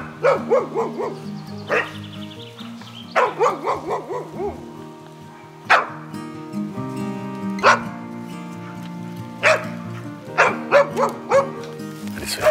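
A herding dog barks repeatedly at pigs inside a fenced enclosure, the sharp, close barks arriving in irregular bursts with brief yelps and whines between them.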